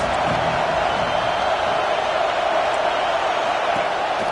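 Crowd noise fills a college football stadium during a Nebraska vs Penn State game, a constant loud roar of many voices pressed against the offense, sustained and even without breaks.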